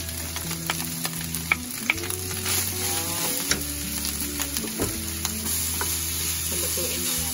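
Chopped red onion sizzles and fries in a hot pan while being stirred, a constant close crackle with occasional scraping clinks throughout.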